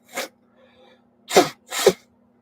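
Three sharp sneezes from an adult indoors, one short burst then a pause and two loud bursts close together, near and alone with no talk.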